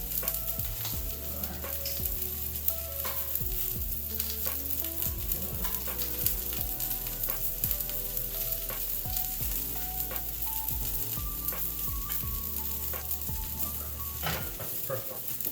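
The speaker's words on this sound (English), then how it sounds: "Bacon's starting to get crispy here." Bacon frying in a pan for a BBQ bacon jalapeño burger crackles with a continuous close sizzle and frequent sharp pops, while faint tonal music plays underneath.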